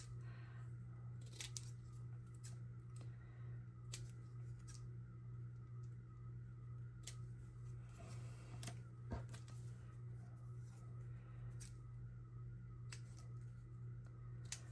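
Quiet, close snips of plain scissors cutting out tiny paper tags, irregular and scattered over a low steady hum, with no talking.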